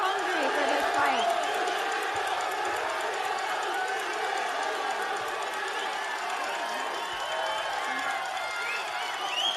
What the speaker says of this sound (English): We've got a very excited crowd here today.